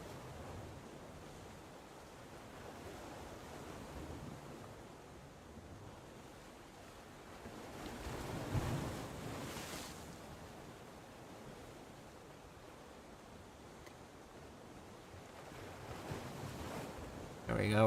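Steady rolling sea waves wash past as a ship sails into port in a video game, a continuous broadband surge that swells around the middle and rises sharply at the very end, with faint voices underneath.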